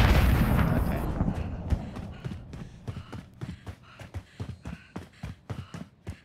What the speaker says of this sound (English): Ah, the fucking grenade. Grenade.